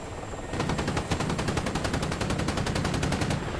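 A long, steady burst of rapid machine-gun fire rattles out in an even fast rhythm during a helicopter PvP battle in a video game, loud and continuous over a background of rotor and engine noise.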